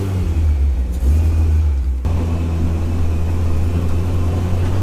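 A 300hp Mini R55 Clubman race car's engine drones loud and steady from inside the cabin on a track, a constant heavy rumble with a brief dip in pitch as it shifts, no voices.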